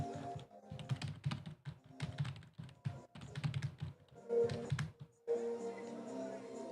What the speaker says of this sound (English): Yeah, keyboard clacking. it's just keyboard sounds.